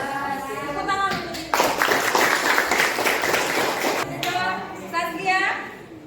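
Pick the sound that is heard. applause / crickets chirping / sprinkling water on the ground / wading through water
applause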